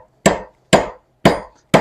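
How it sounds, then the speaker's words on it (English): A blacksmith hammers down on a metal rod clamped in a vise to upset its end for a long-handled spoon. There are four loud, sharp ringing strikes, evenly spaced about half a second apart, each fading quickly into silence. "By clamping it in the vise and hammering down"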